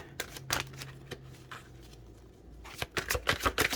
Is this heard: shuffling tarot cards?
yes